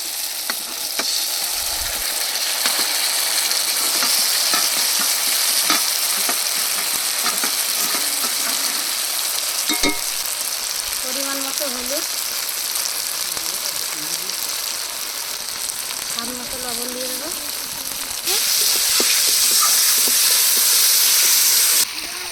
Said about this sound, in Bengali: মশলাগুলো কষিয়ে নিয়েছি